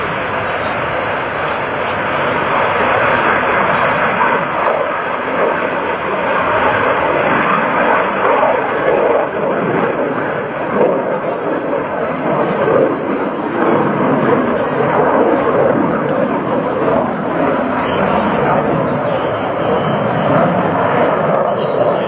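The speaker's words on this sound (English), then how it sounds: "There goes the F/A-18 Hornet," At an air show demo, an F/A-18 Hornet jet gives a loud, continuous roar that holds for over twenty seconds, while an announcer talks over it on a public address system.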